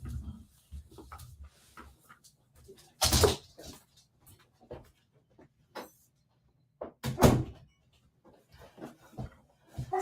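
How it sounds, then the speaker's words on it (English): A door being shut inside a home, with scattered knocks and clicks of handling, then two loud bangs as it closes, separated by quiet pauses. "let me shut the door real quick"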